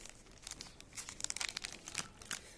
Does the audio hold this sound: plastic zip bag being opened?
yes